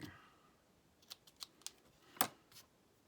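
Quiet scissors trimming material: a short series of faint, crisp snips at irregular intervals, with one slightly sharper cut near the end, heard close up in a calm indoor setting.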